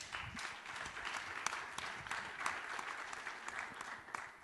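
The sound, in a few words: audience applause at conference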